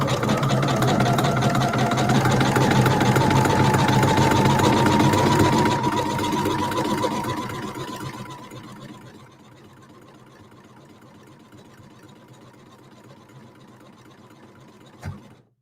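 Sewing machine stitching rope, a loud close motor whir running steadily for about eight seconds, then slowing and fading to a quiet hum with a single click near the end, no talk.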